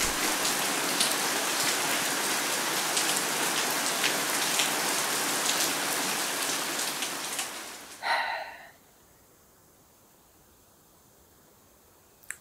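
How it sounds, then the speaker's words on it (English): A heavy downpour hisses loudly and evenly for about eight seconds, then cuts off abruptly, leaving near silence with only faint background noise. "this is supposed to rain like this all today and tomorrow as well."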